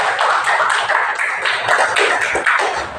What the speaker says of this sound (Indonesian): kasih aplaus untuk kelompok 10